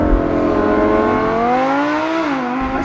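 A Lamborghini Huracan Spyder, the drop-top supercar, accelerates hard from a standstill, its engine note climbing steadily through the revs in a loud, continuous near wail with no talk over it.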